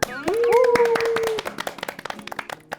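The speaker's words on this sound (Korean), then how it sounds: "첫 번째 리뷰를 보기 전에 다 같이 박수!" A group claps hands together at a corporate event, the claps sharp and close, with a rising vocal whoop over the opening burst before the clapping thins out into scattered, uneven claps.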